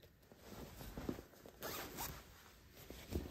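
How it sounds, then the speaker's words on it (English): Zipper on a dress being unzipped, a quiet close scratchy rasp in short bursts and pulls, with faint handling noise and no talking. "We're gonna unzip it."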